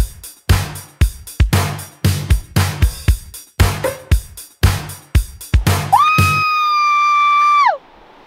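People screaming at an English beach, a series of short loud shouts with gaps between them, then one long rising and falling scream that cuts off abruptly.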